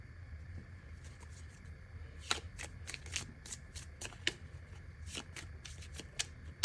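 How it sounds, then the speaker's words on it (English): Tarot cards are shuffled in a quiet room, a steady run of soft, close riffling clicks and flicks repeating irregularly over several seconds, with no talking. "So I was shuffling to get cards out for what you can expect in 3 months' time."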